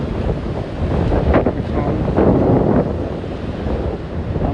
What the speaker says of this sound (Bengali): ঢেউয়ের তরঙ্গ থেকে